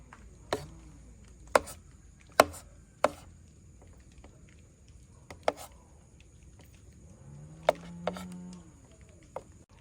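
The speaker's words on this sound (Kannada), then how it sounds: "ಹೀಗೆ ಬೇಗ ಚಿಕ್ಕ ಚಿಕ್ಕ ತುಂಡು ಮಾಡುವ" A knife chops boiled sweet potato into small pieces, giving a handful of sharp, irregularly spaced chops, fairly quiet and close, with soft patter between strikes.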